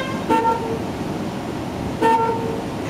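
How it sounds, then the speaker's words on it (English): Two short car horn toots, one early and one later, sound nearby over a low idling engine rumble. "I'm gonna honk the horn."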